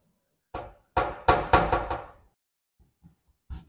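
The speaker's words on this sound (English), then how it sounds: "I'm going to gently force this proportioning valve over this way towards me. Gently. With this pry bar." A pry bar forces a brake proportioning valve on a Holden V8 in a series of sharp metallic knocks and thunks, several in quick succession followed by a few lighter taps, close and loud in an otherwise quiet space.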